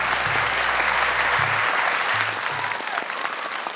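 A studio audience at a televised Quran recitation competition breaks into steady, sustained clapping, a dense wash of applause that tapers slightly toward the end, with faint tones in the background.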